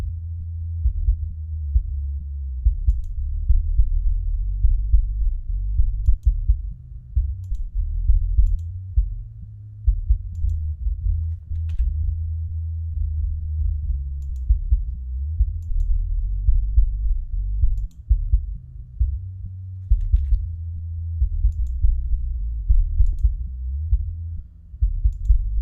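The low end of a kick drum and bass guitar in a mix of a song is heard alone, a deep, muffled pulse of regular thumps over a sustained bass hum.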